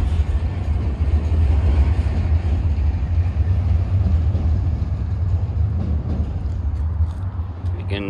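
P&W GP 39-2 diesel locomotives haul a manifest freight train, a loud, constant low rumble and engine drone that holds steady throughout with no voices.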